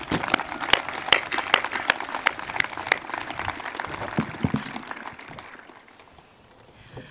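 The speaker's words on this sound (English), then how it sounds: "Give yourself a round of applause." Graduating seniors at a 2021 STEM school graduation in Highlands Ranch clap in a sharp, scattered round that tapers off after about five seconds.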